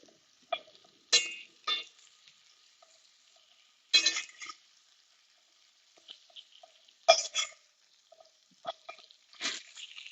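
Fatty meat in a hot pan: sparse, quiet sizzles and short sputtering bursts of spitting fat, with brief louder crackles as the pieces are flipped, separated by near-silence.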